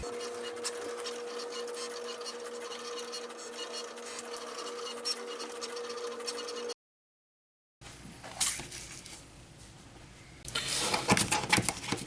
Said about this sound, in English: So we'll put this in the machine and cut it and weed it.